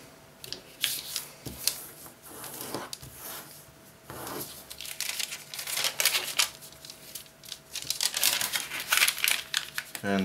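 Paper being folded horizontally while shaping a snake-on-a-rock craft, close crinkling and sharp creasing rustles in irregular bursts that grow busier and louder toward the end, with no talking.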